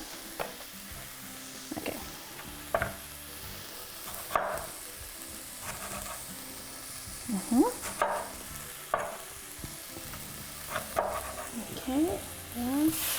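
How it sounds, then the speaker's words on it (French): Tomatoes simmer and get stirred in a pan for spicy shakshuka, giving a steady soft sizzle with repeated scraping stirs and spoon clinks. A voice speaks briefly over the cooking. "Puis ça va mijoter, donc ça va vraiment devenir comme une sauce."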